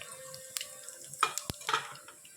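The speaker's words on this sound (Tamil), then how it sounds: "கடுகு பொறிஞ்சிருச்சு" Mustard seeds, dal, dried red chillies and cumin spluttering in hot oil for tempering a brinjal potato masiyal, heard as scattered sharp pops and crackles over a faint hiss, with a few light utensil clinks.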